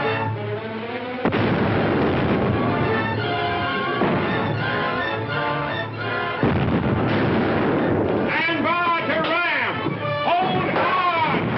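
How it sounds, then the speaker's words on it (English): Cannon broadside from a warship in a 1936 naval battle film, heavy booming blasts rolling continuously under loud shouting voices and orchestral score, the barrage dense and sustained throughout. "We'll give them a broadside."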